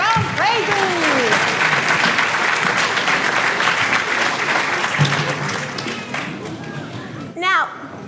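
An audience at an elementary school follies show gives the sponsors a big round of applause. The clapping is loud and sustained, with children's excited voices and shouts rising over it before it thins out.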